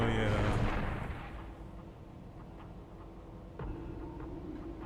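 Fireworks exploding at a distance, a heavy booming rumble that fades out over a few seconds, followed by another dull thud, with faint sounds of a voice in the background.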